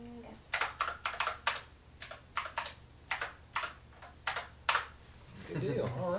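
Fast bursts of clicky typing on a YCCTEAM Luom NG300 mechanical keyboard, done one-handed in quick clustered strokes, close and crisp, with a low hum underneath and a voice briefly at the end.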